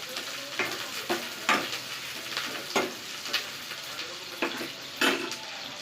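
Shallots and curry leaves fry in oil in a home kitchen for a chicken dish, with a soft continuous sizzle broken by several sharp scraping stirs at irregular intervals, all close and moderately quiet.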